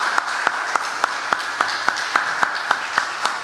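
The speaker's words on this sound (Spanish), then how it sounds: "¿por qué no le damos un aplauso a Dios por esto?" A church congregation applauds: a steady, moderately distant wash of many hands with regular sharp claps standing out at an even beat for the whole stretch.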